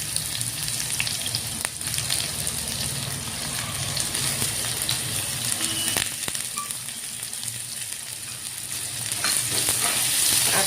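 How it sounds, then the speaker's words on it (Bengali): Cumin seeds and chopped onion frying in hot oil for a Bengali lentil dish, a steady close crackling sizzle throughout with occasional light clinks of a utensil. "দিয়ে দিব অল্প গোটাল জিরা, আর দিয়ে দিব পেঁয়াজ কুচি।"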